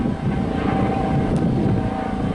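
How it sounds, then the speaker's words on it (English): A helicopter passes overhead with a loud, steady rotor and engine drone that holds at the same level throughout, with no voices. "bloody helicopter, spoiling the mood"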